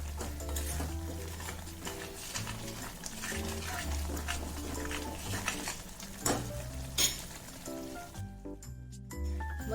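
Spices are stirred and sautéed in gravy for Mehsana-style tuver totha, a pigeon pea dish, with a soft continuous sizzle and a spoon scraping and knocking against the pot up close, without talk.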